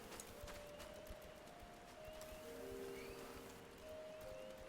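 Rainfall in the Final Fantasy XIV game world patters steadily and faintly, a soft continuous hiss of drops with quiet tonal background music running beneath it.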